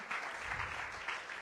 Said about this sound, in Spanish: Dele un aplauso al Señor, hermanos.